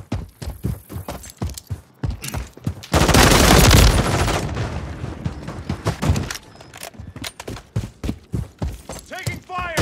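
Rapid gunfire in Call of Duty Modern Warfare III multiplayer: dense bursts of close, loud shots, a long heavy blast in the middle, and game voice callouts mixed in among the firing.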